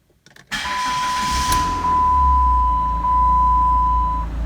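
A car engine turning over and catching, then idling steadily with a low hum while a scan tool emits a long continuous beep; engine running with P0551 power steering pressure sensor fault.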